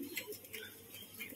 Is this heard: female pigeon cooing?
yes